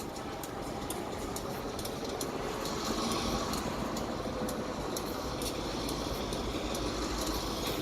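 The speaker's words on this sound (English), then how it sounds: "Train is now backing up all the way this time." A train backing up, a continuous low rumble and mechanical drone of the cars rolling in reverse, fairly loud and close with a faint rhythmic clatter on top, steady throughout and no talking.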